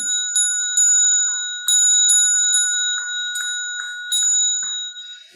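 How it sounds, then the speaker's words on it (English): A big bell rings during a Dharma ritual: bright, sustained metallic tones ring through, struck again and again in an uneven rhythm, loud and close, with no speech. "you can have the big bell and"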